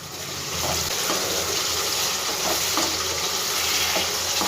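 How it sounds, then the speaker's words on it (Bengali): Spice masala fries in hot oil in a pan, a steady close sizzle with faint stirring scrapes now and then, continuous and moderately loud. "আরও আমি 2 থেকে 3 সেকেন্ডের মতন মশলাটাকে একটু ভেজে নেব"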